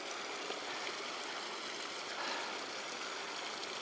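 Hot water from a large steam vent in Lassen National Park flowing through a channel, a steady, faint rushing and gurgling without voices.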